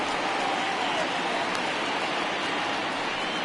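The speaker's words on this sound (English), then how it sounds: "we've mentioned the conditions aren't ideal with the rain coming down" Steady rain pours down on a ballpark in a baseball video game, a dense, even hiss of falling water that fills the scene without a break.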